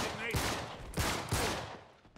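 Handgun shots in the video game Uncharted 3, three sharp loud bursts spaced about a second apart, with game background noise between them.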